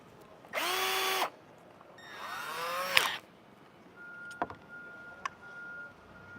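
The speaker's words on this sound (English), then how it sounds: "Drill a hole." A power drill whirs in two short bursts, its motor pitch rising and falling, followed by a few light clicks and a faint steady hum.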